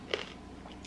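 Crunchy food is bitten and chewed close up, with one crisp crunch followed by softer mouth noises in a brief, quiet moment.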